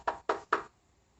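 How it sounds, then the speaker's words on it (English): Three quick, distinct knocks on a bedroom window, close and crisp, followed by quiet. "The knock at the bedroom window."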